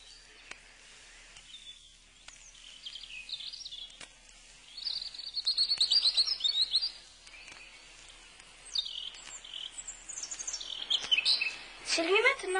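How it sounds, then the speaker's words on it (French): A European robin sings at nightfall, its bright, thin warbling phrases coming in short bursts that grow busier and louder toward the end over a quiet evening background. "c'est le rouge-gorge"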